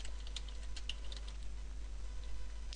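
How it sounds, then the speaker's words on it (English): Quick, light typing on a computer keyboard, a rapid stream of soft clicks over a low steady hum, with no talking. "we need to type in localhost."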